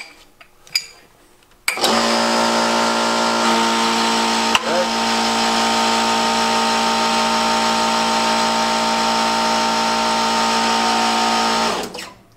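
A hydraulic press pushes a bearing race out of a Harley-Davidson motor: a loud, steady mechanical whine with strong harmonic tones holds for about ten seconds, with a brief click partway through, then cuts off abruptly.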